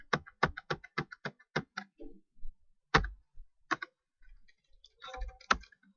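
Keys clack on a computer keyboard in short quick bursts, several rapid taps followed by scattered single strikes and a final cluster, close and dry with no voices.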